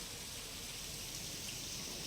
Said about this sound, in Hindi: बारिश लगातार हो रही है।